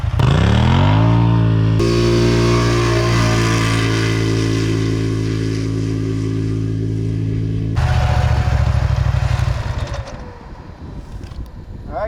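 A Can-Am Renegade XMR 1000R or Polaris Scrambler XP 1000S ATV in four-wheel drive launches hard down a drag strip, its loud engine revving up through rising pitch and gear shifts before backing off near the end.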